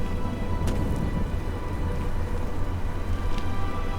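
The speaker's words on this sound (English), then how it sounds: "Rain under roof." Steady rain pattering on a roof in the video game Oblivion, a dense continuous wash of drops with a low rumbling hum underneath and a couple of faint brief ticks.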